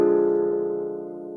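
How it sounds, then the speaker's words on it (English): Sung diminished chord held as one sustained harmonic tone, with several stacked voices blending steadily and fading slightly over its length, with no talking over it. "I'm going to introduce you to a diminished chord that sounds like this."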